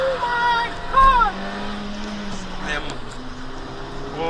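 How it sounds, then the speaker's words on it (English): A Baleno's engine revs hard to 5000 RPM and climbs in pitch, with a brief roar of wheel spin, while a person talks excitedly over it. "I'm giving it a wheel spin check. So it revs till 5000 RPM and here we go."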